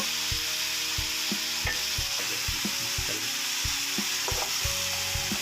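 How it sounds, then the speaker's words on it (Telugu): Chopped green chilies frying on high flame in a pan sizzle continuously and loudly, with repeated stirring clicks and scrapes in an uneven rhythm, and no talk. "ఇవి కూడా వేపుకోవాలి ఇదంతా హై ఫ్లేమ్ మీదే అండి"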